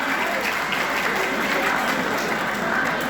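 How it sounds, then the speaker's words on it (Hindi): Applause from a college audience in Pakpattan after a student's song, a full, steady roar of many hands clapping with faint crowd murmur underneath, holding at an even level throughout. "Give him a big hand. तालियां बजाएं यार,"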